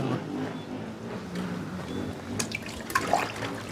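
Water pours steadily into a container for a Jamaican roots tonic, a continuous close gurgling flow with some sloshing and splashes near the end, no talk.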